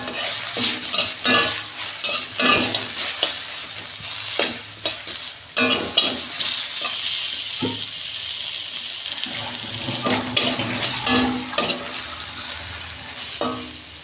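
Mango pieces sizzling in a hot pan for a sour fish curry, with a loud continuous fry hiss and frequent clattering spatula strokes as they are stirred, close and steady for the whole stretch.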